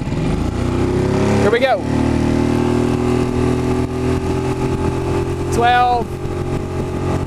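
A Mercury 6HP four-stroke outboard motor drives a waxed-hull jon boat at speed, a loud steady close drone with the pitch sweeping up and down twice, while someone talks over it.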